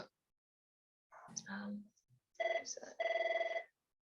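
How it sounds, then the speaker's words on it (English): A telephone rings in two short electronic bursts, close and fairly loud, right after a brief stretch of speech. "it only rings twice, and I actually don't know where the mute button is."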